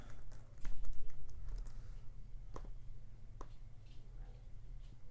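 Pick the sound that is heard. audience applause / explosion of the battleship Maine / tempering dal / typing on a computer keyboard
typing on a computer keyboard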